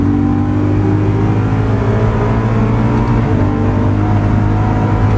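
A BMW M3 V8 accelerating hard on the Nürburgring, a loud, steady engine roar with a strong low drone from inside the car, continuous throughout.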